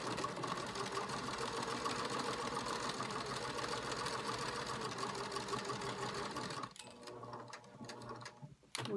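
A sewing machine runs steadily through a seam on a fabric project bag, a continuous close mechanical whir lasting most of the time before stopping near the end, followed by a few short clicks and a brief restart.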